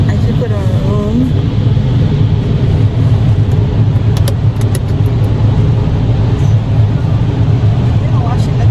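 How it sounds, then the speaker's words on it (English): Continuous heavy rumble and rushing water spray fill the inside of a car going through a drive-through car wash, a dense steady wash of noise with a few faint voices underneath. "You're washing the car"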